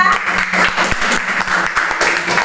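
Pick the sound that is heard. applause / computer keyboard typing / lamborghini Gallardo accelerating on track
applause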